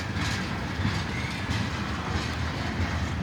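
A long BNSF tanker train rolls past in Piscataway, with a steady, loud, close rumble and rhythmic clickety-clack of wheels over rail joints throughout, with no voices.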